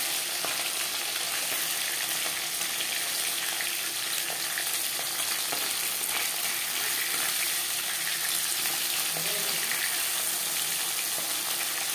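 Pabda fish frying gently in cooking oil, an even, dense hiss and crackle of sizzling oil held close and constant for the whole stretch, with no talk.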